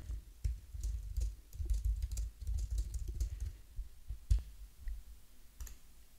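Computer keyboard typing while a profile slogan is edited: a steady run of close, crisp keystroke clicks with a few louder taps and short pauses, and no talking.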